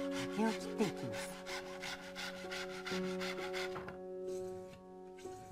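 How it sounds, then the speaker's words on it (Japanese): A saw cuts bamboo to size with steady back-and-forth strokes, close and fairly quiet, the rasping rhythm continuing over a low background hum. "まず寸法を軽く合わせて竹を切っていきます。"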